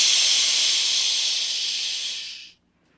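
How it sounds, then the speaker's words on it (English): A loud, steady hiss as three steam locomotives let off steam for a couple of seconds, then cuts off abruptly into near silence. "And all three engines let off steam in a cheeky way."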